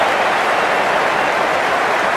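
A cricket crowd at a Pakistan versus New Zealand match cheers and applauds, a dense, steady roar of clapping and shouting that fills the stadium at a constant high level.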